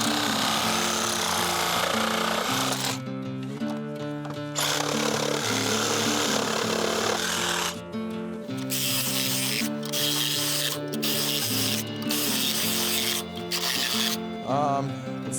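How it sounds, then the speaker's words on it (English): A power saw fitted with a thicker carbide blade cuts through metal, producing a loud, close, continuous whining grind with pitch shifts and brief dips as the blade bites and eases off. "I've got a different blade on here. It's a little bit thicker, but it's carbide and it should be able to cut metal pretty easily."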